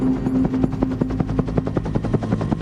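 A Bell UH-1 Huey command and control helicopter flies over a battlefield, its steady rapid blade thump pulsing loudly and continuously over a low turbine drone.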